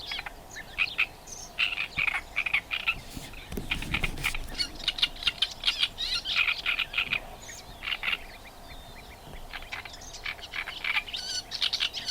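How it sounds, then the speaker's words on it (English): A common whitethroat sings on Lesvos amid a busy chorus of other birds, its scratchy chirping phrases repeating quickly at moderate distance over steady background calls for the whole stretch. "I think this is the whitethroat, because it was a smaller bird"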